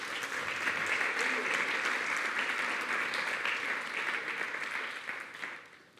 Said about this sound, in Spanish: Denle un fuerte aplauso al Señor por eso.